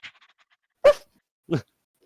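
A voice imitates a small hellish fantasy puppy yipping and barking: a few faint chirpy yips, then two louder, sharper bark-like bursts, close and unaccompanied.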